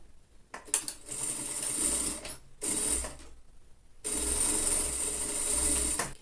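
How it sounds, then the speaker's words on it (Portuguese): A domestic sewing machine stitches the shoulder seam of a lined child's coat, running in several loud bursts separated by short pauses, with a rattling mechanical whir close by and no talking. "E vou costurar o ombro."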